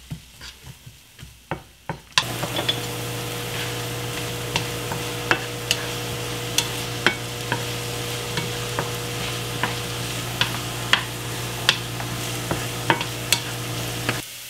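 Onion frying in hot oil in a Caraway pot, a steady close sizzle running throughout after a few quiet knocks at the start, with intermittent sharp clicks and scrapes of stirring over the hiss.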